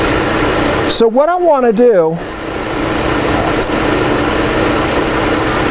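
Engine of a 2018 Chrysler 300 with a hard-start fault and a suspect crank sensor trigger wheel, idling in a steady, close, even hum, with someone talking briefly over it.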